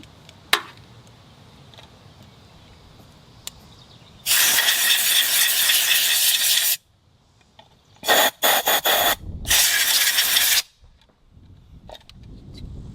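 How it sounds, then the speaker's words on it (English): Air compressor nozzle blowing out a Summit TX25 tractor's air filter housing: loud bursts of rushing air, one long blast, then a few short choppy puffs and another sustained blast, with quiet gaps between. "blow it out with the air compressor"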